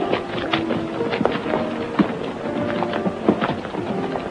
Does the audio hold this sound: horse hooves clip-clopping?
yes